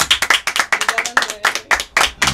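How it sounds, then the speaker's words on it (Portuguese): An audience gives a round of applause at a live event, with close, uneven bursts of hand claps in a quick, irregular patter over a couple of seconds. "E uma salva de palmas."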